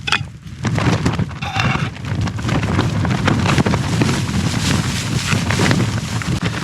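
Strong wind buffets a small tent during winter camping in snow, a loud, continuous rushing roar with gusts and flapping across the whole span, no talking.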